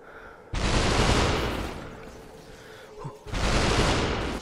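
Shotgun blasts in SuperHOT VR: two loud, close booming shots, each followed by a long roaring decay, separated by a short lull.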